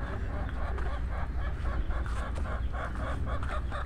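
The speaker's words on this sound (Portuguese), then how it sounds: "Tem umas galinhas sapeca que estão fugindo do galinheiro." Chickens on a Brazilian farm cluck near the henhouse, a few hens having slipped out; repeated short clucks come steadily at moderate distance over a constant low hum, with no talk.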